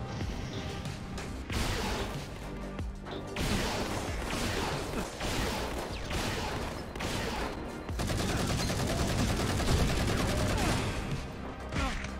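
Assault rifle fire in Halo: The Master Chief Collection, sustained bursts of loud, chunky automatic gunfire with explosive crashes, continuing nearly the whole time amid game sound and occasional faint voice.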